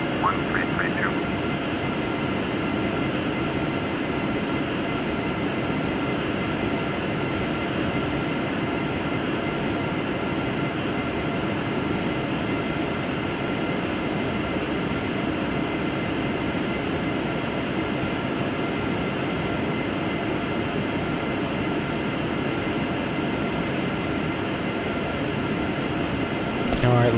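Steady, loud engine roar inside a Boeing 757 cabin during a takeoff run from Dubai, a continuous dense rumble with little change throughout and no clear voices on top.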